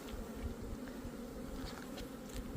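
Bees buzz steadily during a beehive inspection, a low, continuous droning hum from many insects close by, faint overall and with no talking.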